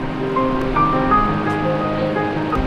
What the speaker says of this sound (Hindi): 7 धाराएं मिलकर बनाती हैं इस झरने को।